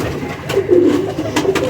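Pigeons of a prized fancy breed coo softly and steadily at close range, a low burbling call that repeats through the whole stretch with no talk over it.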